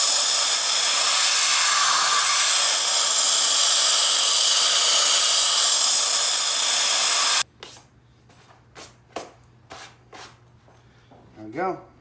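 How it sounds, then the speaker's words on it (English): Compressed air blasting over a steel knife blade clamped between quench plates, a loud steady hiss for about seven seconds that cuts off abruptly, followed by metallic clicks and clatter. "then plate quench with compressed air"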